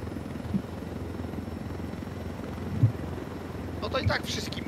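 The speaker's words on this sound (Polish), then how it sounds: "Rozjebałem helikopter." Helicopter in the video game Ghost Recon Wildlands, a steady low rotor drone under faint game noise, with brief higher bursts toward the end.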